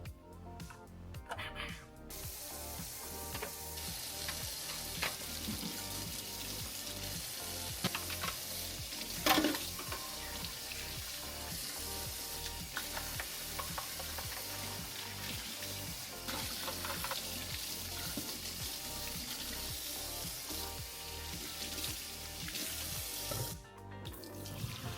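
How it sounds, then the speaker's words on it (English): Rinsing out a home espresso machine under a running tap, a steady close stream of water splashing into a sink for most of the time, with light clatter and occasional faint talk. "I'm giving her my lovely espresso machine, so I need to clean this out."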